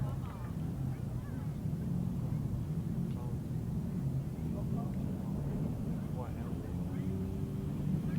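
Grasstrack motorcycles rev as a 500 race gets under way at a 2008 British Masters qualifier, a steady low engine roar holding throughout with a commentator talking over it.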